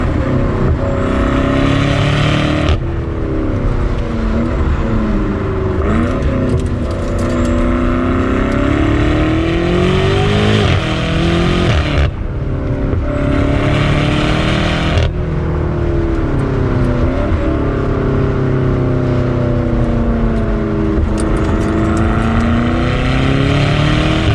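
A loud 2022 BMW M8 Competition Gran Coupe engine roars and revs continuously through its exhaust, rising and falling with gear changes and brief lifts off the throttle, close and aggressive.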